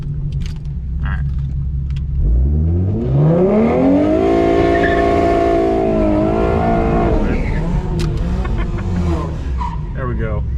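A car doing a burnout with traction control off at a night street-racing event: the engine revs up into a loud, sustained roar with screeching tire spin that holds for several seconds, then eases off, with voices audible nearby.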